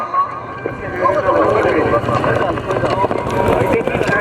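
Horses galloping during a tent pegging event at a horse show in Koankh, Gujrat, with hooves and a whinny amid a loud, continuous crowd and an announcer's voice throughout.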